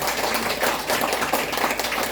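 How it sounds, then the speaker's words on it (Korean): Church congregation applauding together during a Sunday service, a steady dense wash of many hands clapping at even loudness throughout. "다 자신을 위해서 박수."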